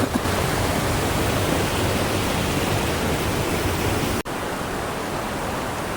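Rushing water at Hosur Falls in Karnataka makes a loud, constant roar close by, broken only by a brief dip near the end.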